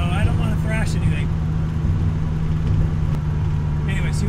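A 1963 Alfa Romeo Giulia cruises at about 45 to 50 mph under light throttle, giving a steady, loud engine drone and road rumble heard from inside the car throughout.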